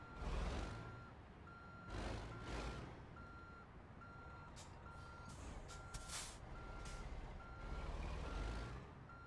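Kenworth W900 truck in American Truck Simulator backing up a trailer, with steady evenly spaced reversing beeps over a loud diesel engine rumble and short hissing bursts of air brakes, no talk.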